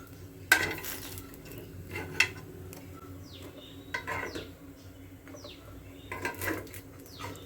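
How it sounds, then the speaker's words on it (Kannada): Cooked beetroot dish being packed into a lunch box: a few sharp clinks of metal utensils against containers, then softer scraping and tapping, close by with no talking. "ಇವಾಗ ಬಾಕ್ಸ್ಗೆ ಪ್ಯಾಕ್ ಮಾಡ್ತಾಯಿದ್ದೀನಿ"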